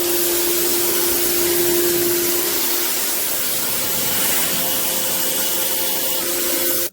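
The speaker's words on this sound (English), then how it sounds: "We changed nozzles, so this is the widest nozzle at 40." Pressure washer spraying steadily through its widest 40-degree nozzle, a loud continuous broadband hiss with a motor hum underneath, running unbroken for about seven seconds before cutting off abruptly.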